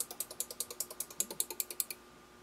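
Sonoff micro Wi-Fi smart USB relay switching, a rapid run of about eighteen sharp mechanical clicks at an even rhythm, close and crisp, before falling quiet, with no speech.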